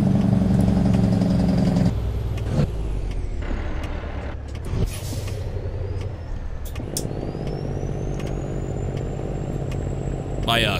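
A chipped N14 600 truck engine in American Truck Simulator drones steadily with a low, rumbling harmonic tone throughout, shifting pitch as the engine revs change, with a brief hiss burst midway.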